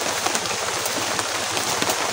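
Steady rain hisses across the whole clip, a dense patter of drops falling nearby with no voices.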